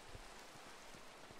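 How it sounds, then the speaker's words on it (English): Rain in the video game Minecraft, a faint, steady hiss of falling rain with soft patters, heard alone with no voices. "Why is rain in Minecraft so bad?"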